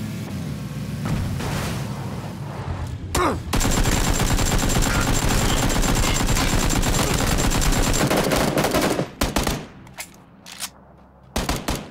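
Sustained gunfire in the battle royale game PUBG, a dense continuous roar of automatic shots lasting several seconds, loud and close, followed by a few scattered single bursts and brief gaps.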